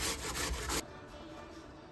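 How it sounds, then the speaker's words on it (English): An apple is grated on a grater for a Hungarian poppy seed strudel, giving under a second of close, rough rasping strokes that stop abruptly and leave a quiet room. "In the meantime, I will grate one apple."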